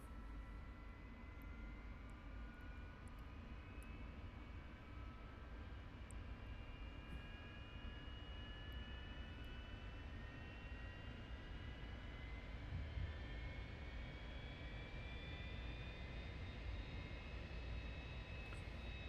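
A simulated F-86F Sabre jet engine idles after startup in the DCS flight simulator, giving a continuous low roar with whining tones that slowly rise in pitch, steady and unbroken. No one speaks.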